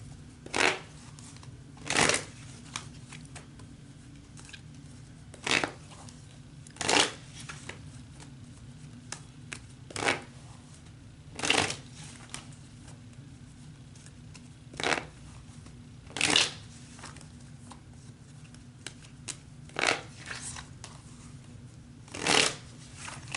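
Tarot cards being shuffled by hand in repeated short riffling bursts spaced a few seconds apart, close and fairly crisp against a quiet room hum, with no talking.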